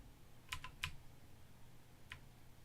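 Faint typing on a computer keyboard, a few isolated soft key clicks, two close together early and one later, in a quiet room.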